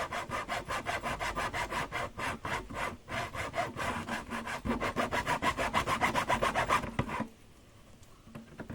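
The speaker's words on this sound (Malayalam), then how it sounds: "നമുക്ക് ഈ ഒരു ബോട്ടിൽ നമ്മുടെ ആവശ്യത്തിനുള്ള സൈസ് നമുക്കൊന്ന് മുറിച്ചെടുക്കാം. അപ്പോൾ ആക്സോ ബ്ലേഡും എടുത്തിട്ടുണ്ട്." A hacksaw blade cuts through a plastic bottle in quick, even back-and-forth rasping strokes, close and steady for several seconds before stopping abruptly.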